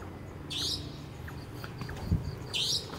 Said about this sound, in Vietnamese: lại nghe tiếng những cái loài chim rồi nó hót